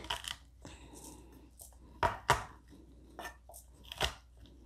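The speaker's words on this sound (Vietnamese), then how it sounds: "Tỏi này thì mình băm nhuyễn." A knife minces garlic on a cutting board in scattered chops, with a few sharp, close knocks standing out over a quiet kitchen background.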